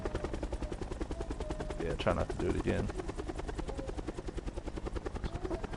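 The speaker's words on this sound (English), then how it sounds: "I don't know how my helicopter's not smoking at all" A helicopter in Call of Duty Blackout drones with a steady rotor chop throughout, with brief gunfire mid-way and a person talking over it.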